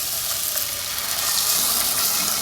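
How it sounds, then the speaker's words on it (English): Chicken broth pours steadily into a pot of quinoa, a soft, even liquid gush lasting a couple of seconds with no talking. "now I'm going to add the broth"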